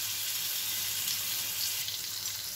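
Pointed gourd (potol) frying in oil gives a soft, steady sizzle and hiss that runs alone and fairly quiet throughout, with no voices.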